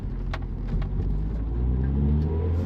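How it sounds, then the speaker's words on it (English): A 1988 Honda Prelude Si with a four-wheel steering conversion cruising on the freeway, its steady low engine and road rumble continuous and close, with faint tyre hiss over it. "This car seems to track straight as an arrow so far driving down the freeway."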